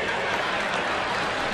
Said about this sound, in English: Listen to the reaction of the crowd in the background.